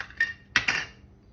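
A metal tablespoon clinks against a bowl while sugar is scooped for homemade teriyaki sauce, three short, close, bright taps in quick succession, with no talking.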